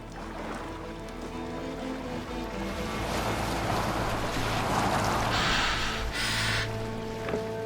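A boat glides over water in Assassin's Creed Valhalla, with a steady wash of waves and hull splashing under a low droning background score, growing slightly fuller partway through, with no one speaking.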